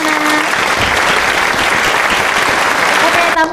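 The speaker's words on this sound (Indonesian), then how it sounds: "Tepuk tangannya." Audience applause at a school event in Indonesia welcoming the head of the student council of an Islamic high school, dense and loud, sustained throughout with a brief voice near the end.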